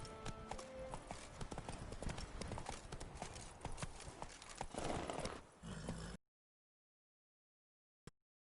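Video game horse Roach galloping, hooves clip-clopping in a fast steady rhythm, close and loud, then cutting abruptly to silence with one brief click near the end.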